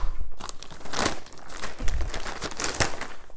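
Plastic packaging in a Losi Tenacity MT RC truck box being cut open, with loud close crinkling and crackling of the bag in irregular bursts and no talk.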